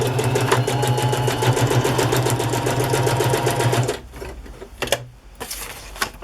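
A sewing machine stitches down a paper journal page in a steady, fast mechanical whir for about four seconds, then stops, leaving a few scattered clicks and taps.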